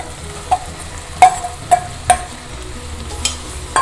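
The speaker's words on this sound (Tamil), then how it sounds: "மஷ்ரூம் கொஞ்சம் நல்லா வதங்கணும்." Marinated mushrooms sauté in a pan with a soft, steady sizzle, while four or five distinct metallic spatula clinks strike the pan up close.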